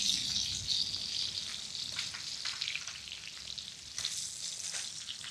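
Ribeye steak frying in a pan too small for it, a bright steady sizzle with crackling pops, moderately close and alone without talk.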